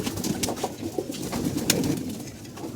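Pigeons coo softly and repeatedly near a feeding spot, with brief rustles and light clicks scattered between the low calls.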